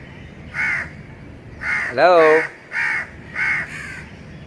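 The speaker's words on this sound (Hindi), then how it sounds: "देखें कौवा।" A crow caws in the morning, about six harsh, evenly spaced calls close by, with a brief spoken word among them.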